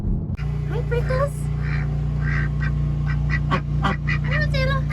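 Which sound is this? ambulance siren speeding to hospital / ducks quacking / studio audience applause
ducks quacking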